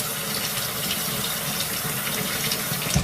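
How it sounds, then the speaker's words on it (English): Hot water runs steadily from a tap into a plugged sink, a continuous close gushing and splashing hiss that holds level for about three seconds. "I'm going to start with filling the sink with reasonably hot water"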